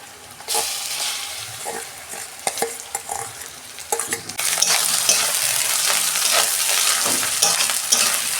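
Prawn and cauliflower paste hitting hot oil with fried onions in a pan: a loud hiss that swells and holds steady, broken by stirring clatters and scrapes of a spoon.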